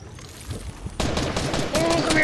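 Gunfire bursts out in Fortnite, a rapid volley of shots that starts about halfway through and keeps going loud and close, with a player's voice talking underneath.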